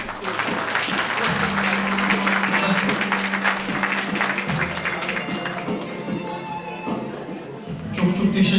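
Steady applause from an audience in a mosque hall in Brussels welcoming a former deputy mayor of Schaerbeek to the podium, dense clapping sustained throughout, with a low sustained tone beneath and voices murmuring.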